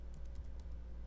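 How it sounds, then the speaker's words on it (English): Quick keystrokes on a computer keyboard as commands are typed into a router terminal, a short run of soft, close clicks over a low steady hum. "We're going to type config."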